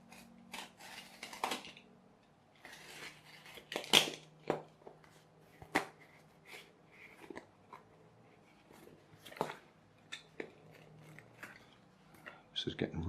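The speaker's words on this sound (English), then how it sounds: "to make it easier to use the scissors." Scissors snipping through rubber band material, a scattering of short, irregular crisp cuts and clicks, fairly close and quiet, separated by pauses with faint background hum.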